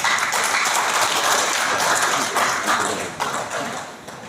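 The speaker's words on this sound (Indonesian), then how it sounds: "Tepuk tangan untuk beliau." Audience applause at a chess federation gathering, a dense steady patter of many hands clapping throughout, tapering slightly toward the end.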